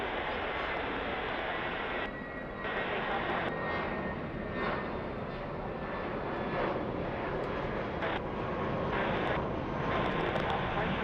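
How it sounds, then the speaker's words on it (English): A Mexican-registered executive jet roars steadily at an airport, its engine noise loud and continuous throughout, with a voice talking now and then over it. "This is a Mexican registered exec jet"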